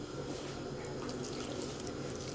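About 150 ml of drinking water pours from a bottle into a kazan for cooking Kremlin-style meat, a soft continuous splashing trickle, fairly faint and steady throughout.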